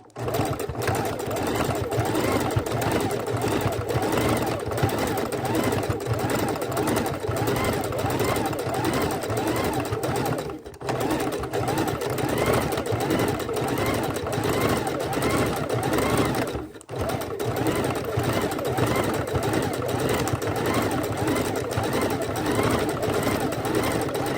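A sewing machine runs continuously, stitching raw-edge appliqué fabric with dense stitches, a steady close mechanical whir pausing briefly twice, while a person talks over it.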